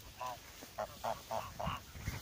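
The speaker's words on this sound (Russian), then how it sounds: "Вот есть один наглый гусь" A domestic goose on a village farm honks in five short, nasal bursts spaced fairly evenly, close but fairly quiet, over faint background noise.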